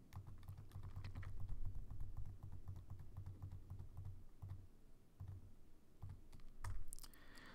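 Typing on a computer keyboard during Python coding, rapid clustered key clicks in quick bursts with short pauses, close and fairly quiet.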